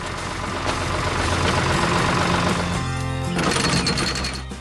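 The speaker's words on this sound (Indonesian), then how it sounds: "Traktor itu sedang bekerja keras membajak tanah agar siap ditanami benih-benih yang sehat." A tractor plowing soil drones with a steady, heavy engine rumble at close range, with a rhythmic mechanical chatter layered over the low idle.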